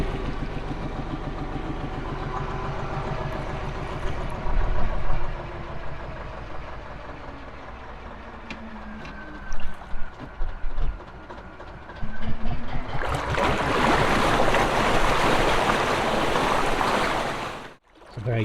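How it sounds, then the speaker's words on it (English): A narrowboat's Gardner 2LW diesel engine runs in a steady low rhythmic thump, then is thrashed hard in reverse, with loud rushing, churning water swelling up close before cutting away near the end. "I might try and shove it in reverse and see if that'll clear it a little bit maybe, but give it a good thrashing in reverse."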